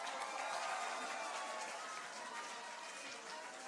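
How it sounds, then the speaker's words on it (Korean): Applause from a crowd at a Busan party New Year gathering welcoming a spokesperson, a steady wash of many hands clapping in a large room, moderately loud and sustained throughout. "큰 박수로 환영해 주십시오"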